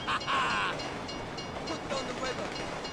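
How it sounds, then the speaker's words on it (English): A train rolls past in Grand Theft Auto V, a steady rumbling rush of rail noise that fills the scene alongside other in-game sounds. "If you were local, you'd know the train comes by right now."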